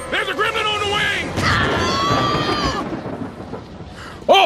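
Cartoon thunderstorm with a loud crash of thunder and rumbling, mixed with shouting character voices and dramatic effects, ending on a sharp burst.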